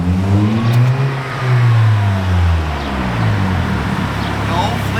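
A Toyota GR Corolla fitted with a new aftermarket exhaust revs up and falls back in loud, close swells, with a rising and falling engine drone and some road noise.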